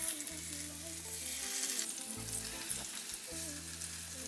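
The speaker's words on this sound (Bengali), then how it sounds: "তেল গরম হয়ে গেলে লবণ হলুদ মরিচ দিয়ে মেখে রাখা রুই মাছগুলো তেলের মধ্যে দিয়ে দিব।" Pieces of rohu fish coated in salt, turmeric and chili sizzle steadily in hot mustard oil, a dense, continuous frying hiss with a low hum running underneath.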